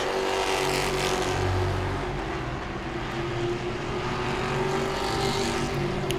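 Grand stock race cars circling Langley Speedway at night, a loud continuous engine roar from a field of cars with steady droning pitch, close and unbroken throughout.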